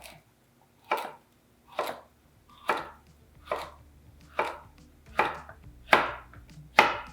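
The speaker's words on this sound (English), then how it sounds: "then cut it into 1/3 to 1/2 inch slices" A knife slices a seeded vegetable, laid seed side down, into thick pieces on a cutting board, giving eight evenly spaced, crisp chopping thuds, close and loud with quiet gaps between.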